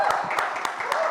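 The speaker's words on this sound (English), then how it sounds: "Let's have a huge round of applause and congratulate." An audience bursts into applause at a series trailer launch event, a dense, steady wash of clapping hands with crowd noise filling the whole short moment.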